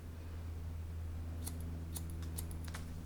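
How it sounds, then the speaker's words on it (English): Scissors snip through long hair in a series of crisp cuts while layers are added during a home haircut, the clicks bunched in the second half over a steady low hum. "I can cut it here to give it a little bit of layers."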